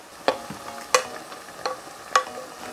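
Meat being stir-fried in a pot for yukgaejang, Korean spicy beef soup, with four sharp scraping stirs of a utensil over a faint sizzle, close and fairly quiet.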